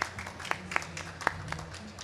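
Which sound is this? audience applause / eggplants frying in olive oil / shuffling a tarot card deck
audience applause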